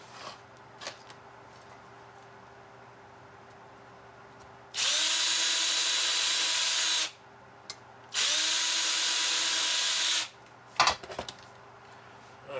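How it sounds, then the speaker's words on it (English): A power drill with a small bit whines loudly in two bursts of about two seconds each, drilling holes in a 1966 Ford Mustang, separated by a short pause, with light clicks and clatter around them. "so that sounds like a 50 thousandths drill bit to me."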